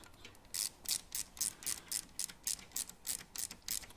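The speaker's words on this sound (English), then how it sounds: "I like to use my sockets to do up my hose clamps" Socket ratchet tightening hose clamps on a Harley oil line, a close, crisp clicking in quick regular bursts, about a dozen evenly spaced ratchet strokes with no talk.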